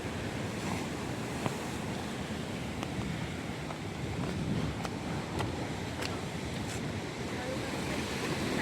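Sea waves wash in steadily at Malvan beach, a broad continuous roar of surf with wind buffeting the microphone and faint voices in the distance.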